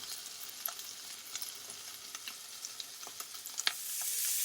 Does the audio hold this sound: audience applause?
no